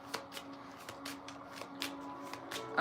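A deck of cards is shuffled over and over during a pick-a-card love reading: soft, papery riffling bursts repeat at a steady, fairly quick rhythm, close and moderately quiet, with no talking.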